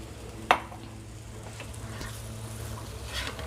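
Cubed potato and fried elephant yam are turned in a pan with masala, giving a soft steady sizzle with a sharp clink of a utensil at the start, faint and close.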